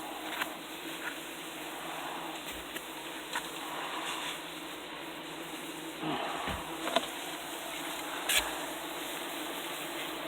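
Yellow jackets from a massive nest inside an attic buzz steadily and close, a continuous droning swarm with occasional louder passes and faint knocks.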